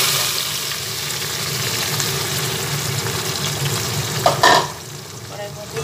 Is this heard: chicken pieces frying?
yes